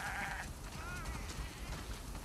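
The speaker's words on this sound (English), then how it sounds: "Wow, that's a lot of sheep." Sheep bleating inside a barn in the video game The Last of Us Part II, a couple of short wavering bleats near the start and middle over a steady low ambient bed, moderately quiet.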